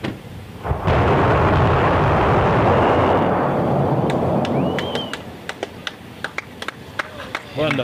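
SpaceX Starship Ship 20 static fire: a deep, broad engine roar rumbles loudly for several seconds, then fades into crackling echoes and scattered pops, heard as if from a distance.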